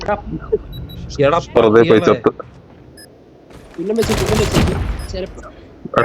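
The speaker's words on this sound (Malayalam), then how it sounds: "ബോംബ് ഡ്രോൺ അത് വെടിവെച്ചു" Gunfire in Call of Duty Mobile shooting down a bomb drone, two rapid bursts of shots, the second louder and longer, with excited voices talking between them.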